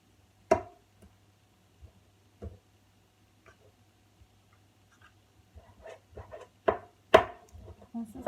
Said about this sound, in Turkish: Daha sonra eyni qayda ilə küçük kiçik doğrayırıq.